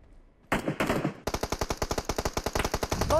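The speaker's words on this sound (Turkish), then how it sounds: "Abi Uzi ile sıkıyor bu arada." Uzi gunfire in PUBG Mobile: a short burst, a brief pause, then a long run of evenly spaced rapid shots. The fire is loud and close, with no talking over it.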